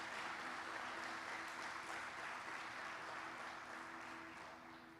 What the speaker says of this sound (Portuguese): Quem recebe, dá um aplauso para Jesus